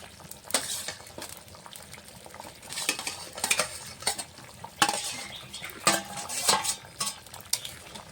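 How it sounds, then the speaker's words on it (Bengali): Fried catla fish pieces go into a simmering curry with teasel gourd. Spoon clinks against the pot and scraping stirs come in irregular bursts over a soft bubbling simmer. "ভেজে রাখা মাছগুলো দিয়ে দেবো"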